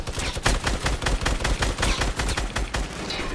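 Rapid bursts of automatic gunfire crackle in a Battlefield game, dense and continuous with short pauses, loud and close throughout.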